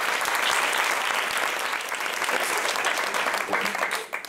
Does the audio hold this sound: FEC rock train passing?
no